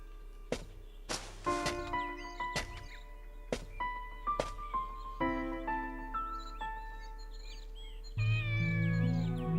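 A kitten in the video game Shenmue gives a series of short meows at an uneven pace, with chiming tones behind them and a louder swell at the end.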